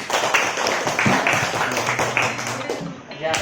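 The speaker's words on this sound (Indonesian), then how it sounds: "Tepuk tangan dulu" A group of students claps hands together during a classroom lesson, a steady patter of many hands of moderate loudness, with talking mixed in.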